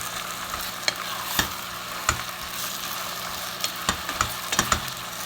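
Chicken with tomatoes, bouillon cubes and plenty of chilies being stirred in a sizzling pan for kinamatisang manok: steady frying hiss with scattered scraping clicks of the spoon against the pan.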